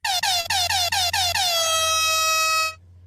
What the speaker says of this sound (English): I appreciate the air horn as usual.